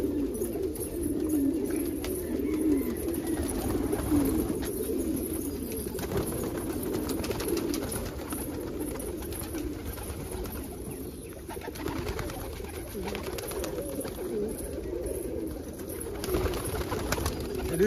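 Indian fantail pigeons, including an almond-coloured bird, coo in low, soft murmurs during a morning bread feeding, layered with wing flaps and scattered rustling that continue steadily throughout.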